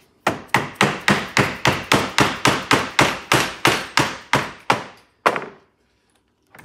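Hammer blows drive a spreader anchor home during a DOMINO DF 500 / DF 700 joiner training session, about fifteen sharp, evenly spaced strikes in quick succession, loud and close, then a final separate knock and silence.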